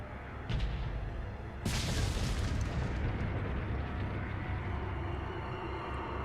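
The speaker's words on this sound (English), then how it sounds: "Fire the cannon." A cannon fires in Resident Evil 4 (2005), a sharp heavy boom followed by a long rumbling blast that fades into sustained low noise, loud and alone without speech.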